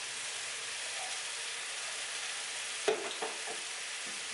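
Minced garlic hitting a hot pan for a vegan chili with stuffed bell peppers, giving a steady, fairly quiet sizzle of frying with a brief clatter of stirring partway through, no talking.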